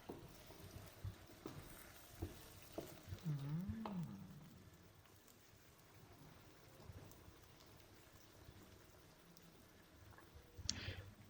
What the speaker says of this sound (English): we're still frying our chicken wings, our first batch of chicken wings